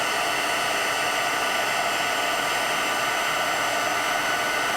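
An embossing heat tool blows steadily to melt embossing powder on a handmade birthday card, a loud, even, hair-dryer-like whoosh of hot air that holds constant from start to finish with no voices.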